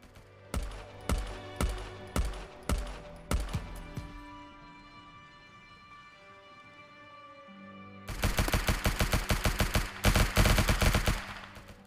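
Gunfire in the World War 2 first-person shooter Ghost of War: several sharp single shots ring out at a steady pace, then after a lull a loud, dense burst of rapid automatic fire.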